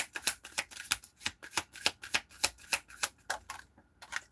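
A deck of playing cards is shuffled in a rapid, even run of crisp riffling bursts, about a dozen in quick succession, close and clear with no talking.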